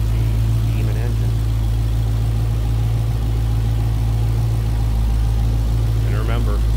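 A supercharged 6.2-liter engine in a 2018 Dodge Challenger SRT Demon idles with a deep, steady low rumble that holds throughout, loud and close, with faint voices briefly over it.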